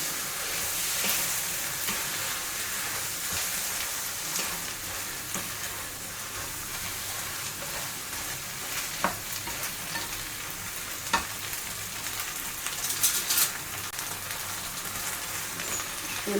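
Flat white rice noodles for char kway teow stir-frying in a hot wok, with steady loud sizzling and frying plus scraping stirs and a few sharp clacks of the utensil against the pan, no talking.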